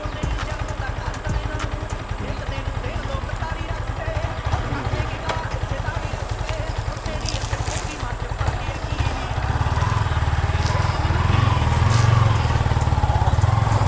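A motorcycle engine runs steadily and loudly close by, a continuous low drone that grows heavier near the end, with voices talking over it.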